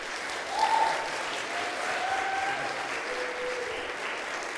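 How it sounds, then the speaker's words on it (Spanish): An audience applauds steadily at a church ministry gathering, the dense clapping sustained and even throughout with a slight swell near the start. "Un aplauso para ellos,"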